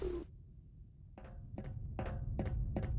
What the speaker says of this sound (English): Moving the gravity gun.